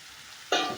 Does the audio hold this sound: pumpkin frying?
yes